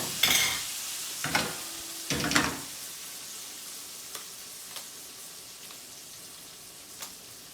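Ravioli stirred and tossed through a rich tomato sauce in a pan, with three close bursts of wet stirring and scraping early on, then quieter soft clicks and taps of utensils with no talking.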